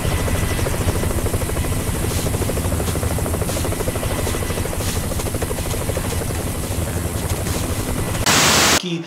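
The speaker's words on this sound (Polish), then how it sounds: "Helikopter nad głową, helikopter nad głową" A helicopter flies overhead in the Vietnam War shooter Vietcong: Purple Haze, its rotor a loud, steady, noisy chop that fills the scene for about nine seconds before cutting off abruptly.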